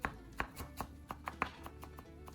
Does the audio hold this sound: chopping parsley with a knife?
yes